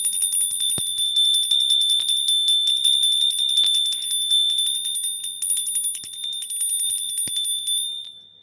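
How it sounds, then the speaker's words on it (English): A bright, sustained bell rings steadily and loudly with a shimmering, ringing tone that fades out near the end, heard alone with no voices. "The bell of happiness."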